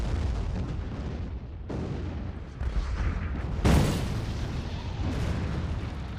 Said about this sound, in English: I don't know if I can deal with the second barrage.